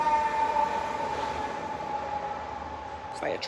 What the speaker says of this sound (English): That's a sirens, fire truck